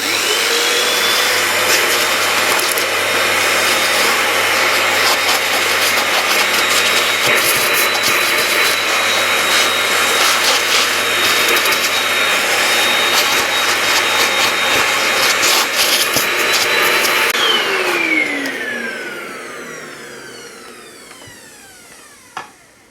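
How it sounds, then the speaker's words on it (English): A vacuum cleaner roars loudly and steadily up close for about eighteen seconds while removing mould from a slouch hat, then switches off, its motor whining down in pitch as it winds to a stop. "And vacuuming away."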